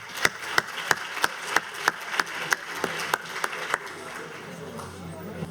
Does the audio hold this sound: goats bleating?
no